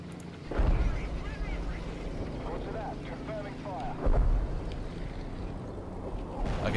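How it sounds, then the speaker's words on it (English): Artillery strike explosions in the tank game War Thunder, two heavy low booms, one at the start and another about four seconds in, over a steady rumbling battlefield and engine din, with a player's voice talking throughout. "Calling in the artillery"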